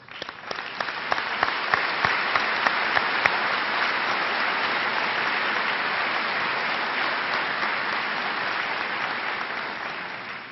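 A large audience at the Wadsworth High School 2014 commencement applauding steadily, a dense sustained roar of clapping that swells quickly and holds for about ten seconds.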